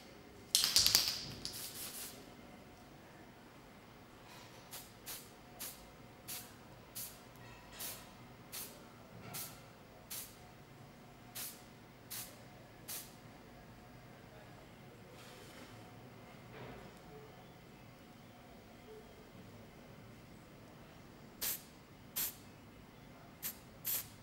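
Spray paint can hissing in short, evenly spaced bursts while priming a miniature figurine, opening with a longer, louder blast, then a pause before a few final quick sprays.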